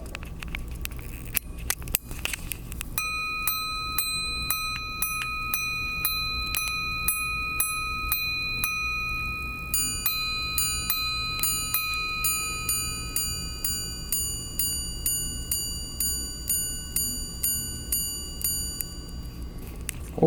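A Patek Philippe 5016 minute repeater watch chimes, its ringing gong tones repeating steadily in a clear metallic sequence over a soft constant ticking and mechanism whir, close and alone.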